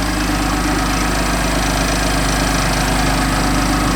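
A BMW M3 F80 engine idles with its stock airbox reinstalled after a cold start, giving a steady, loud, close droning rumble that holds even for the full stretch with no voices.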